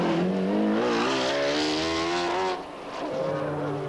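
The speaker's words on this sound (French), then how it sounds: "Un V12 de 6 litres de cylindrée étudié par BMW." A McLaren F1 GTR race car with a BMW 6-litre V12 engine, roaring loud and close as it revs up through rising pitch, drops briefly as it shifts, then climbs again, with no talk over it.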